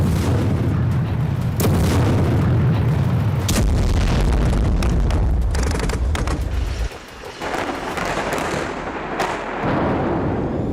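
Heavy bomb blasts from airstrikes on Hamas tunnels in Gaza, a loud, dense series of deep booming explosions with rumbling aftershocks that ease briefly and then swell again.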